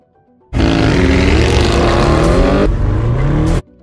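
An Audi RS6 racing against a McLaren: a loud, close engine roar that climbs steadily in pitch, drops briefly at a gear change, then rises again before cutting off sharply.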